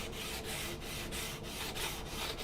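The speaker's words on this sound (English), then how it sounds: "you can hear just a little bit of wood touching" 220-grit sandpaper rolled along the wooden edge of an acoustic guitar body, a faint, soft rasping rub repeating in even back-and-forth strokes, close and alone.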